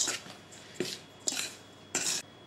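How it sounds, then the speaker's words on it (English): A spoon stirs flour, salt and other dry cake ingredients in a bowl: four short scraping, clinking strokes, close and crisp, with quiet gaps between them and no voices. "So just give that a bit of a stir around so that the dry ingredients are combined"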